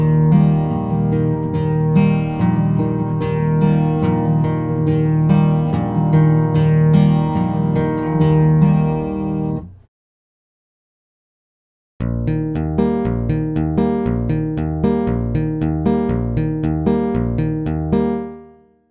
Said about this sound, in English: The open string pattern here sounds like this.